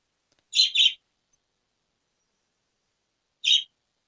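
Pet birds give a quick double chirp, then one more short chirp a few seconds later, all close and clear against complete silence.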